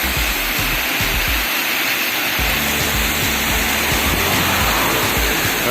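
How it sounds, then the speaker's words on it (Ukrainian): A waterfall roars as a loud, continuous broadband rush of falling water, heard close and unbroken with no talk over it. "Це водоспад такий красиві."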